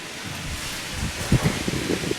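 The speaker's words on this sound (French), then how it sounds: "Oh le vent." Steady wind blowing across the microphone at an old sanatorium, a continuous rushing noise with a few gusty buffets, no voices.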